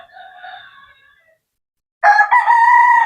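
A gamefowl broodcock rooster crows loudly and close by, one strong cock-a-doodle-doo near the end after a fainter bird call fades out, with no talk.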